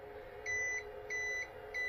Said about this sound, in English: It's a beep, letting me know that there is no electricity.